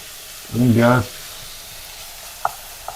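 Shallots sauté with salt in a pan, giving a low, steady sizzle; a voice briefly speaks or hums near the start, and a couple of light utensil clicks follow.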